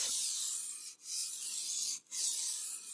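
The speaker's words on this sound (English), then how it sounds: "Do not apply pressure on the stroke that carves into the stone." A kitchen knife is drawn across a whetstone in long, even rasping strokes, three close scraping passes separated by brief pauses, with no voices.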